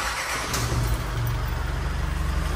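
The air conditioner blower runs inside the cab of an Isuzu Giga truck with a DT4000i unit fitted, giving a steady, broad rushing hum of air under a low engine drone.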